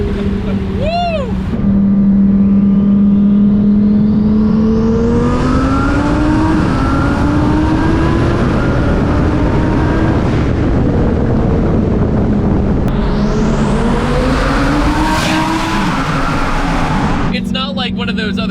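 A 1350 HP twin-turbo Lamborghini Performante accelerates hard, engine note climbing steeply through two long gear pulls with a brief shift between them. The sound is loud and close, with roaring wind noise over it.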